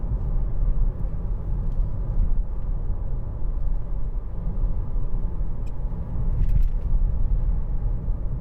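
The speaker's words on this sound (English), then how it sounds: "Lovely car to drive, nice suspension." Steady, continuous road rumble and engine drone from inside a 2013 Mercedes-Benz C200 on the move, a low even hum with faint occasional rattles and no talking.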